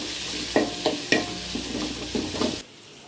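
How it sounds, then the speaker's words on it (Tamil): Onions frying in a pan for millet vermicelli, a close steady sizzle broken by several scraping stirs before it cuts off near the end. "வெங்காயத்தை போட்டுக்கணும்."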